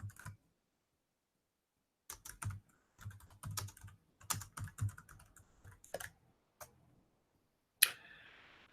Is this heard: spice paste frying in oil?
no